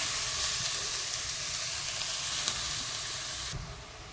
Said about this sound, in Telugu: ఇదే నెయ్యిలో మనం క్యారెట్ను కూడా వేసుకొని వేయించుకుందాం